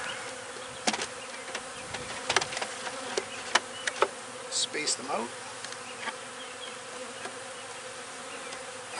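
Honeybees buzz steadily around a hive box being set up with a pollen patty and frames, with occasional close insect passes and clicks of handling, while someone speaks briefly nearby.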